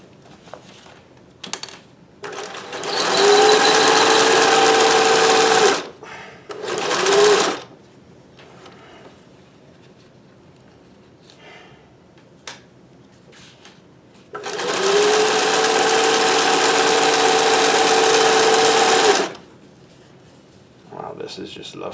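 Singer 411G sewing machine with a roller foot chain stitching rubber-backed fabric at commercial speed, in two sustained whirring runs of a few seconds each separated by quiet pauses, with short bursts and a voice speaking between them.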